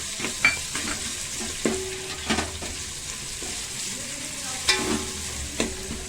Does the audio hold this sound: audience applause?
no